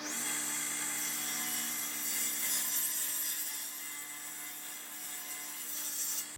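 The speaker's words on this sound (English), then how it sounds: "I'm going to slide this through the table saw." A table saw cuts through a board for guitar neck blanks, giving a steady high whine with a sustained cutting rasp for several seconds before the sound drops away, close and with no talk.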